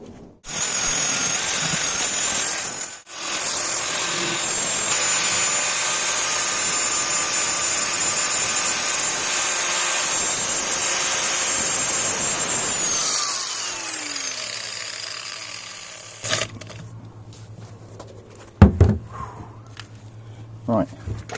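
A power tool fitted with an abrasive pad whines steadily while smoothing motorcycle handlebars, loud and continuous for about twelve seconds before winding down, followed by quieter knocks and handling sounds.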